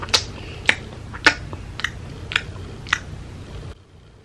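A voice imitates someone loudly chewing gum, giving a string of sharp, wet smacking clicks at an uneven rhythm, close and fairly loud, before the sound stops.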